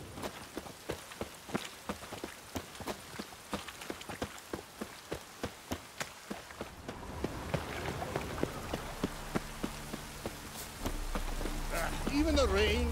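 Rain falling in The Witcher 3 as a steady patter, with rhythmic footsteps at first, then a voice speaking near the end.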